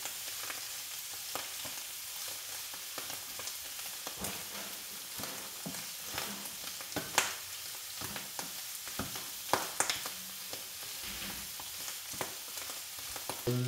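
Rice stir-fried in a pan for Cantonese fried rice, a continuous close sizzle punctuated by frequent sharp clicks and scrapes of a utensil tossing the grains.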